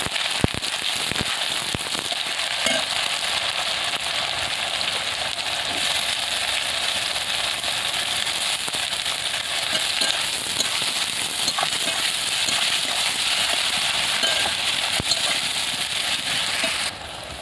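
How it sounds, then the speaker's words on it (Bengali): Chopped onions fry in oil for a country chicken and potato curry, a constant dense crackling sizzle with scattered sharp pops, loud and close, no speech. "এবার দেবো কুচনো পেঁয়াজ। ভালো করে লাল লাল করে ভেজে নেব।"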